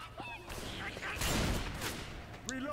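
Sniper rifle gunfire in the Left 4 Dead 2 video game, with a few sharp, close shots over a busy mix of game noise and a voice talking.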